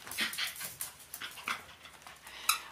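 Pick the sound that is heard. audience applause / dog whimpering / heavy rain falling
dog whimpering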